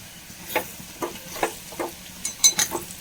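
Dates sautéed with salt in a pan for a lemon, date and garlic pickle: a soft background sizzle broken by a series of distinct spatula scrapes and stirs, spaced irregularly and growing busier toward the end.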